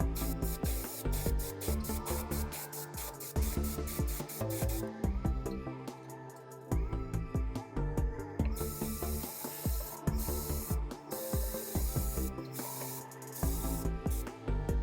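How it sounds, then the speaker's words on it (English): Aerosol spray on the underside of a Battletech miniature: repeated short hissing bursts with brief gaps, fairly quiet and close, over a busy patterned background. "let's see if I can get him to stay while we spray the underside of the Mini here"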